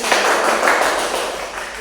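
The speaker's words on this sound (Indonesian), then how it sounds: "bisa tepuk tangan" A class of students applauding a female student after her presentation on hajj rites, a short burst of brisk, dense clapping from many hands that fades slightly toward the end.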